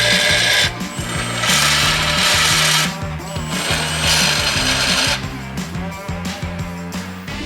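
A power saw grinds steadily through metal pipe, loud and close, with a harsh rasping whine that surges and dips as the cut proceeds.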